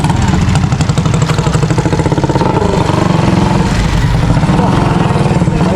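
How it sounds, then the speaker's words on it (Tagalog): Motorcycle engine running loudly on a street near a public market, a steady rumbling drone that holds close and prominent for several seconds with no talk over it. "Ingay ng motor na yan."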